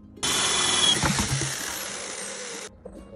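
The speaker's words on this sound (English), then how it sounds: "We're gonna insert this piece here, the drill bit, and drill holes a couple inches from the bottom." A power drill whines at high speed as its bit bores holes a few inches from the bottom of a plastic 5-gallon bucket for a chicken feeder, a loud close burst of about two and a half seconds that then stops.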